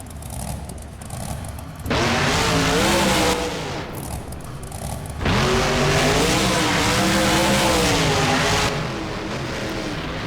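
Gravedigger monster truck at a freestyle show, engine roaring loud in two long full-throttle bursts with rising and falling harmonic revs as it builds speed toward a ramp, a brief dip in between.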